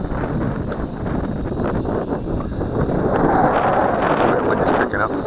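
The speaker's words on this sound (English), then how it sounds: "wind is picking up." Gusting wind buffets a microphone outdoors, a steady broadband roar that swells louder midway and stays strong to the end, where a small micro quadcopter drone is flown.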